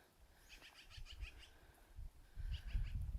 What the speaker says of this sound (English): Some bird is really cursing us off up there.